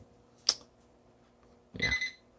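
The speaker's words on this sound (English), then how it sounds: "I'm going to set the timer for, I'm going to say 5 hours, just to be on the safe side." A kitchen timer being set while wild hog backstrap bakes gives two quiet electronic beeps, a short sharp one followed by a longer one, in an otherwise silent room.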